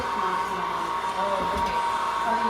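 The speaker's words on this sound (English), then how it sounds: "that grinder there is a beast" A heavy-duty meat grinder working through still-frozen meat at a farm grinding session, a loud steady motor whine running throughout with low grinding rumbles underneath.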